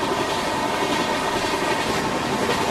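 The Ahmedabad Puri Express passenger train running in the PC game Train Simulator makes a loud, steady rumble with a faint rhythmic clatter of wheels on rails. No voices are heard.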